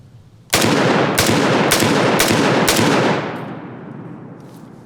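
A loud firearm fires five rapid, sharp gunshots in a row outdoors, each crack ringing out close and hard before a lingering echo fades away.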